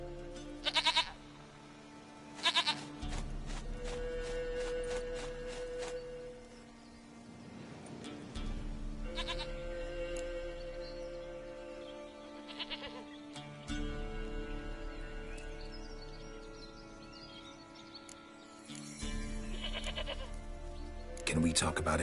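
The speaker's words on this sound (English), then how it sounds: "Goat of mine, dearest, sweetest goat." Goat bleating in The Witcher 3 game, several short bleats scattered across a scene of ongoing dialogue and background music.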